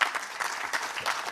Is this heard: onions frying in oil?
no